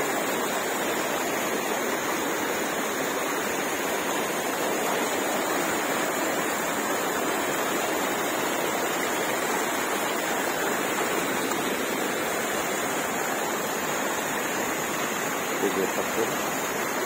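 Water from a stream pours over a small waterfall at a traditional fishing trap, a loud and constant rushing roar that fills the whole stretch without easing.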